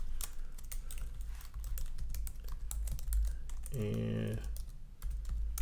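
Quick bursts of keystrokes as a username and password are typed on a computer keyboard, close and crisp over a low hum, with a brief spoken word in the middle.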